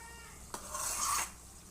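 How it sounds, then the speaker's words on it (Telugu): Baby potato gravy curry boiling in a pan makes a low bubbling simmer, broken by a sharp utensil tap and then a brief rising burst of stirring and sizzling near the pan, with no voices. "చూడండి ఉడుకుతుంది కదా"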